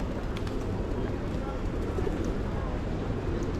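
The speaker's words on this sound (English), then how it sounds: "Feed the pigeons." Pigeons cooing in busy, cosmopolitan Freedom Square in Nicosia, faint and scattered beneath a dense wash of outdoor crowd and traffic noise.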